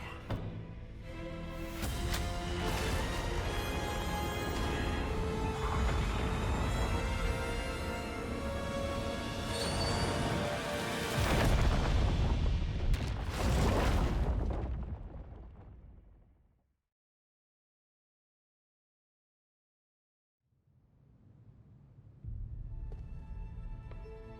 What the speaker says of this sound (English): The explosion in the cave destroyed the Lazarus pit.